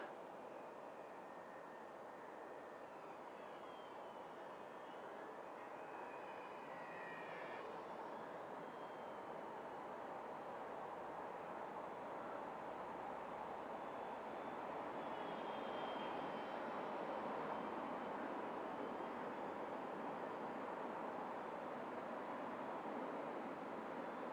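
A V911S fixed-pitch flybarless RC helicopter flies outdoors in wind, giving a steady, moderately distant whine under constant wind noise with no talking.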